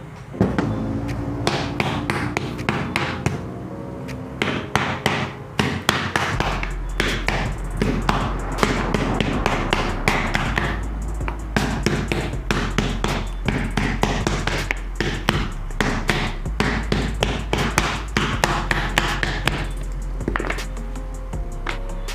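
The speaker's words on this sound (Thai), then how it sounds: "เสร็จแล้วก็ไปทุบนะครับ ทุบด้วยค้อนยางนะครับ" A rubber mallet pounds a handmade genuine-leather sandal sole, producing steady, close, dull thuds in quick repeated bursts over a constant low hum, continuing for more than twenty seconds.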